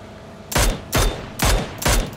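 An M16 rifle in the battle royale game PUBG fires four loud, sharp single shots at an even pace of roughly half a second apart, each with a short echoing tail.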